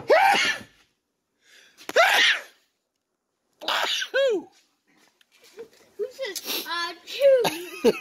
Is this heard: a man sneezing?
yes